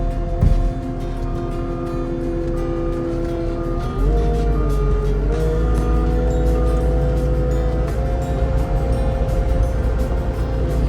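A Cat compact loader drives over to hook up to a Mower King brush hog, its diesel engine humming steadily throughout, with a brief knock near the start and a shift in engine tone midway.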